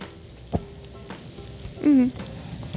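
Salmon fries gently in a pan over low heat, a soft steady sizzle broken by a few sharp utensil clicks and one short squeaky scrape.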